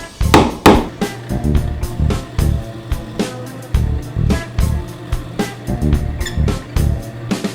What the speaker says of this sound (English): use this same drill bit to tap out the location of the hole in the other jaw